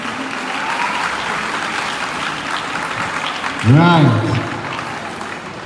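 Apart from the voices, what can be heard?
audience clapping for a school debate team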